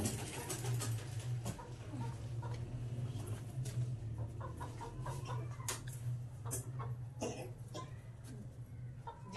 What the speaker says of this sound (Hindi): जी ये देखे हमारी मुर्गी,